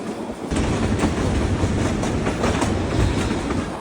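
A train rumbles steadily along a mountain railway in Europe with a continuous clattering roar, loud and close, starting abruptly after a brief quieter moment.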